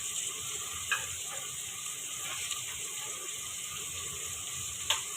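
Garlic, green chillies and ginger fry in a pan, a soft, continuous sizzle with a few faint clicks and taps.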